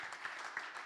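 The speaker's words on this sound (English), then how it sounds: "give Omat a round of applause" An audience at a geothermal forum session gives a short burst of soft, scattered applause. It sounds faint and brief, with no talking.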